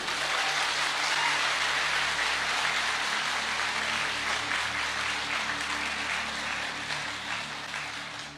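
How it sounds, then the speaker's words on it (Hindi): A large crowd at a health awareness program claps steadily and loudly, a dense wash of applause that holds for several seconds before easing slightly toward the end. "तो एक जोरदार तालियां आपके सेहत के नाम पे।"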